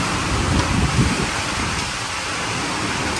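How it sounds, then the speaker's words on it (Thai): Steady rain pours down in a dense, even hiss, with a few heavier rumbling patters early on and no voices. "ฝนตกแล้ว"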